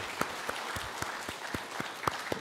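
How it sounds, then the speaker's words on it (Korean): A church congregation at a Sunday anniversary service claps, a faint, fairly distant patter of hands with sharper individual claps standing out at irregular intervals. "이 시간 하나님께 또 우리 모든 교우들에게 감사의 영광의 박수를 올려드리겠습니다"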